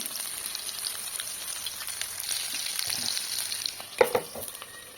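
Spicy masala fish frying in a pan on low to medium heat, giving a constant crackling sizzle with scattered pops and a sharper clatter near the end, heard close with no speech.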